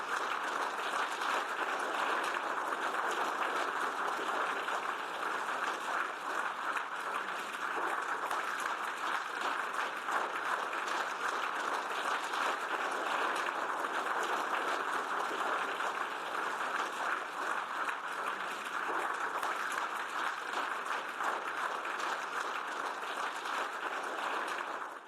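Sustained applause fills a meeting hall after Ukrainian President Zelenskyy's speech at a European Union meeting, a dense, steady roar of clapping from a large crowd that holds at an even level for the whole stretch.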